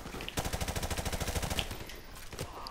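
Automatic gunfire from the video game Call of Duty Modern Warfare Remastered, a rapid burst of shots lasting about a second followed by a few scattered single shots.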